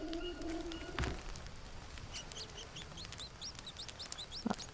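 Birds in the video game Green Hell chirp and tweet in quick repeated bursts over a soft, steady background, fairly faint, with a couple of thumps in between.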